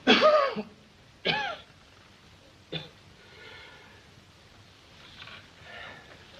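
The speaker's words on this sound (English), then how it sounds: "Suppose you wait till he quits coughing." A man coughs in a Western law-and-order scene, three harsh bursts with short gaps between them: a strong first cough, another a second later, and a weaker third, followed by quieter rustling and faint breathy sounds.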